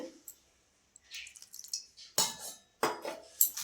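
Spiced masala peanuts are tossed and mixed in a bowl, giving close, intermittent bursts of scraping and rattling with short quiet gaps between strokes.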